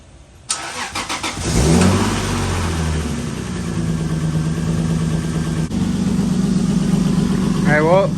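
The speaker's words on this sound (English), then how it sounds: "let's see if we can fire up good old JZ" Nissan 240SX with a JZ engine cranks and fires up, then settles into a loud, steady idle close by, with a short rev blip near the end.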